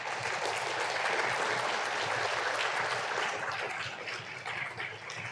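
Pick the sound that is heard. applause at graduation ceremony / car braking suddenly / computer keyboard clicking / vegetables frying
applause at graduation ceremony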